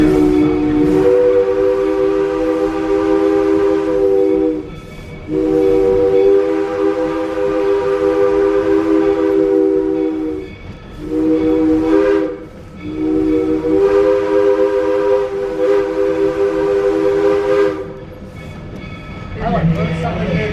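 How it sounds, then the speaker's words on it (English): A loud train horn blows the long-long-short-long grade crossing signal, sustained blasts separated by brief pauses, close and dominant, on the Georgetown Loop Railroad in Colorado. "You can tell just by the way they played that grade crossing signal."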